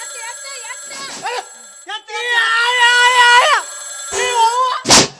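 A telephone rings on stage during a comedy play, with warbling electronic ringtone bursts separated by brief pauses, ending with a short sharp shout.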